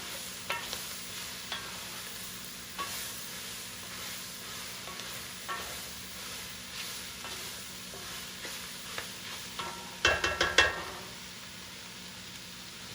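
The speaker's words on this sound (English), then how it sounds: "We're going to add our shrimp." Shrimp fry quietly in a cast iron pan for japchae, a soft steady sizzle with scattered light pops, then a short burst of louder scraping and clinking near the end; no one speaks.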